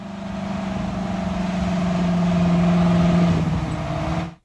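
A 1,100 horsepower Big Bud tractor engine drones loud and steady, a deep even hum that swells slightly over several seconds before cutting off sharply.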